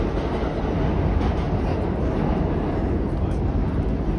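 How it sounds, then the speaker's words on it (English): A New York subway train on the N/W yellow line rumbles beneath Broadway in Lower Manhattan, a steady, loud low roar with faint clickety-clack holding evenly for the whole stretch, with no voices over it. "There's the subway rumbling."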